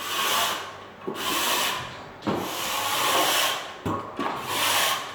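A drywall knife scrapes across a butt joint on a cathedral ceiling in repeated long strokes, each a rough hissing rub separated by short pauses, close and fairly quiet, with no talk.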